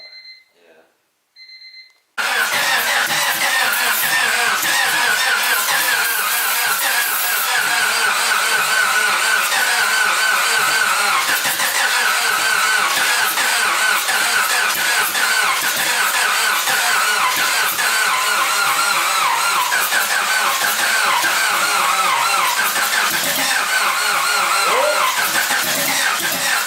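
A wagon car's engine starts after a few seconds of quiet and then keeps running loud and steady at close range, with a rough, busy roar throughout.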